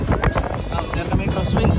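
Strong crosswind buffets the microphone in a steady, rumbling roar, with faint talk underneath, during a 200 km audax bicycle ride.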